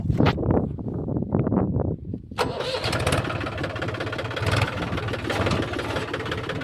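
A heavy tractor engine cranks with a few rhythmic chugs, then catches and roars into a loud, rough, steady run close by.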